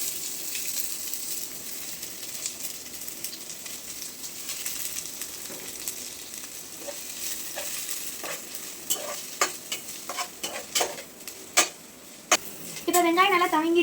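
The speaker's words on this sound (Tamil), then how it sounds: "அதே வானலில் நம்ம ஆனியன் போட்டுக்கலாம்" Onions frying in oil in a wok, a soft steady sizzle that grows busier with increasingly frequent spatula scrapes and clinks against the pan toward the end, close and alone.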